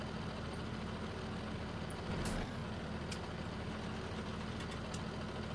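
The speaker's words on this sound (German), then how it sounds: "Können wir den Druck der Reifen ablassen." Steady hiss of air being let out of the tyres on a Fendt 700/800 tractor in Landwirtschafts-Simulator 19, a continuous broadband rush over an engine drone, with a short louder burst midway.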